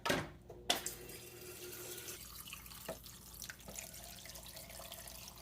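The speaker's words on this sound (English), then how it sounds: "we're just going to keep adding water till the crock pot's full" Water running from a tap into a crock pot, a faint, steady trickle and splash after a brief louder start, with no one talking.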